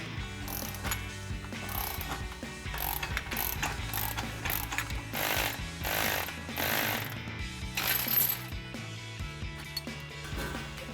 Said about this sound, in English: I'm just gonna take that 24mm socket again, tighten that down and try to pop that free